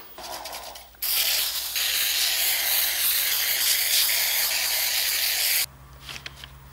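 Spray adhesive hisses from an aerosol can in a woodworking shop as pieces are glued down for CNC machining, one long steady spray of about four and a half seconds between brief quieter moments.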